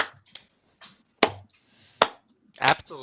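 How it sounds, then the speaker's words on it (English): A handful of slow, deliberate hand claps ring out one by one with long gaps between them, sharp and close, in a sarcastic slow-clap rhythm. "Slow 1990s clap for you"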